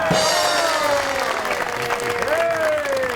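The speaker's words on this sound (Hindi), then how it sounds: "आपकी बहुत सी तालियों में" Audience applause at a Pakistani TV talk show, a steady wash of clapping that runs under a presenter's continuous, animated voice for the whole stretch.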